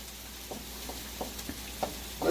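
Potatoes frying and browning in a pan for country fried taters, a steady soft sizzle with a few small pops and crackles, quiet and close with no talking.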